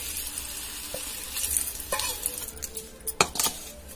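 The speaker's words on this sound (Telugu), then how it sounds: "ఇప్పుడు ఈ తాలింపుని అన్నంలో వేద్దాం" Tempering of chana dal, hing, curry leaves and green chillies is tipped into cooked rice and stirred in a pan, giving a soft sizzle with scraping, irregular spoon strokes and a few louder clinks.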